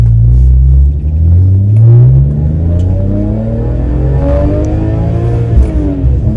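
A BMW E46 M3 engine pulls hard under acceleration, its loud, rising rumble and climbing pitch heard from inside the car during a drive.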